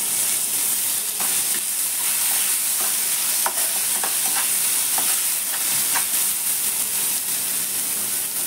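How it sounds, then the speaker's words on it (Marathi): Chopped tomatoes tossed onto onions frying in a pan produce a soft, continuous sizzle and hiss, with occasional light clicks of a stirring spoon and no talking. "कांदा भाजत आला, आता आपण टोमॅटो टाकून घेऊया"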